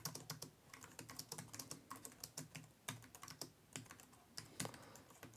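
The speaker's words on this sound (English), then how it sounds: "So I'll just quickly type something out just to give you an idea what it's like." Quick irregular tapping on an Anker T300 ultra-slim wireless Bluetooth keyboard, a run of light, close key clicks with short pauses, quiet and alone without speech.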